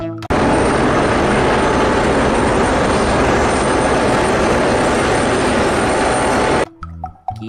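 Yellow toy airplane giving a loud, steady buzzing whir that runs continuously for several seconds before stopping abruptly, followed by faint handling noises.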